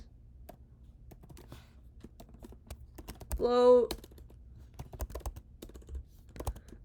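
Quick, light keyboard clicks tapping irregularly, close by, with a brief spoken word partway through.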